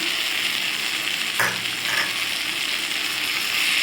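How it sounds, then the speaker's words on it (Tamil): Grated coconut sautéed with onion and tomato for a sundakkai chutney sizzles steadily in a hot pan, a dense continuous frying hiss with a brief stir scrape midway, close and loud with no talking. "சேர்த்து நல்லா வதக்கிக்கோங்க தேங்காயெலாம் போட்டு நல்லா வதக்கி வச்சு பாருங்க"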